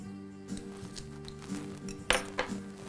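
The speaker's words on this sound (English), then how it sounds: "It helps the saffron to be grinded easier." Saffron is ground with a little sugar, and it comes across as faint, quiet clinks and light taps of a utensil against a dish, a few scattered knocks close by, no talking.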